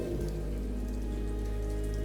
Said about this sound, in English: But then the rain began to fall.